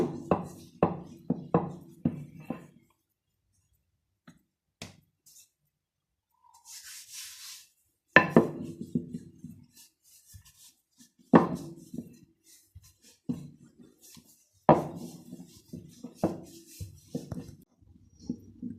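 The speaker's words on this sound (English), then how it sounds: "So guys, we are rolling our spring rolls sheet." Soft rubbing and dull thuds of spring roll sheets being rolled out by hand on a flour-dusted surface, coming in short bursts separated by pauses, close and fairly quiet.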